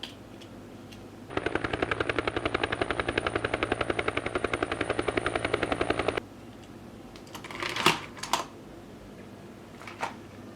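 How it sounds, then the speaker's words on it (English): A toy helicopter whirs with a steady, rapid buzzing rotor drone for about five seconds, then cuts off abruptly, followed by a few soft handling clicks and rustles. "This is helicopter, guys."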